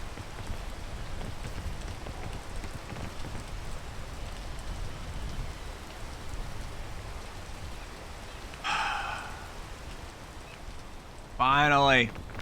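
Rain falls steadily in the video game Peak, a continuous soft patter throughout, with brief bursts of a voice and other game sounds near the end.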